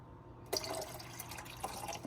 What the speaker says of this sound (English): Maybe pour in a little more water.